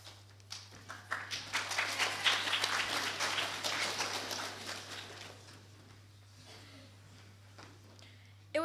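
A crowd at an Anzac Day ceremony applauds guest speakers. The clapping swells quickly, holds for a few seconds and then thins out gradually, with a steady low hum underneath.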